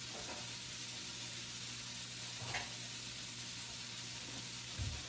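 Sausage browning in an Instant Pot, a steady close sizzle and fry running throughout with a faint stir or clink midway and near the end.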